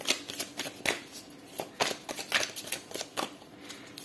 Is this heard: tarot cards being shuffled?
yes